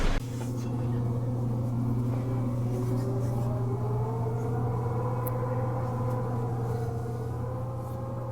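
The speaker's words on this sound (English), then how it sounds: "That's the sound of our eerie hotel room." A steady low electrical hum fills a quiet hotel room, constant and unchanging, with faint shifting tones layered above it and no voices.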